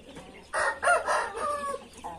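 A young rooster crows close by, a loud single crow lasting about a second and a half, followed by a softer trailing call, with faint farmyard background.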